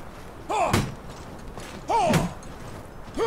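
Axe chopping at big wooden doors in Mordhau, two heavy thudding impacts about a second and a half apart, each with a short grunt-like vocal effort just before the blow.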